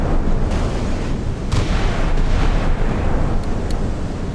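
Heavy naval gunnery and missile launches from a modern warfare game, with US arsenal ship and Soviet Kirov, Slava and Sovremenny warships: a dense, continuous roar of distant blasts and rumbling fire, with a few sharper bursts rising out of the din.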